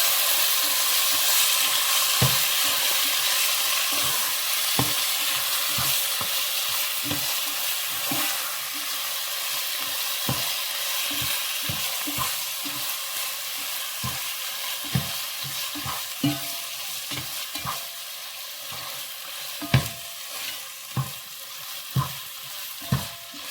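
Chicken with salt and spices is stirred in a pot for biryani over a long, steady frying sizzle, with scattered utensil knocks and scrapes that grow sharper toward the end, heard close with no voices.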